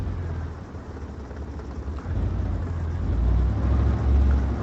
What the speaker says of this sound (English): I love how you can hear the tracks,